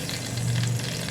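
Cumin seeds sizzling in hot oil, a close, dense, continuous crackling hiss that stays loud and steady throughout the short stretch.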